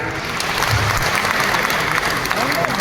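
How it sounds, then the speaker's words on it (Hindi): An audience claps throughout, a dense, steady round of applause at an event in a hall, loud and continuous with no pauses. "इसके लिए तालियां"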